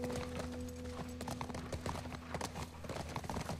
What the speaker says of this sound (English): Now we ride a horse.